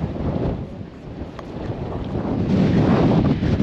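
Heavy gusts of wind on a pier at Whitby batter the microphone with a loud, steady rumble that swells stronger toward the end.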